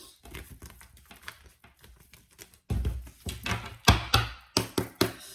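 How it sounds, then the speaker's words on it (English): Tarot cards are handled and shuffled close up, with soft riffles building into several sharp slaps and taps toward the end, no talking. "All right, one more shuffle here."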